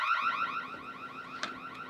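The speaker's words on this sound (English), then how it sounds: "Where's that alarm coming from?" A warbling electronic alarm wails continuously, its pitch sweeping up and down in quick repeated cycles at moderate volume, with a brief knock partway through.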